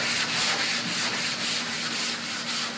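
Steady rhythmic rubbing strokes of wet sanding fiberglass with paper wrapped on a foam block, a close, hissing scrape repeating back and forth at an even pace.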